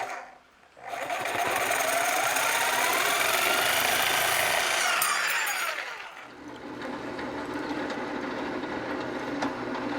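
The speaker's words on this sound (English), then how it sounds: "I'm just going to use a recip saw." A reciprocating saw cuts through a fence-charger bracket part, a loud, continuous buzzing rasp that shifts in pitch as the blade works, then drops to a quieter hum as the cut finishes.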